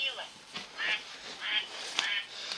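A cartoon duck in a video game quacks in short repeated bursts, roughly one every half second, fairly loud and close.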